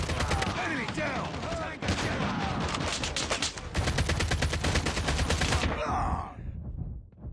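Automatic gunfire in COD Mobile during a multiplayer Domination match on the Standoff map with an ASM10 rifle: dense, loud rapid bursts with short breaks, mixed with game announcer voice lines and effects.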